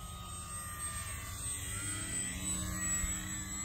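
Radio-controlled FMS Maule float plane on a three-cell 3200 battery passes at full throttle, a continuous electric motor and propeller whine with shifting pitch, steady and moderately loud.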